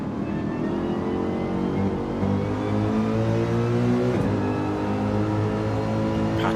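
GT3 race cars on Mount Panorama at Bathurst in a sim racing game, engines droning steadily with rising and falling revs through the corners, loud and continuous with overlapping car tones.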